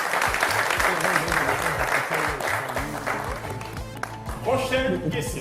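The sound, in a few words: audience applause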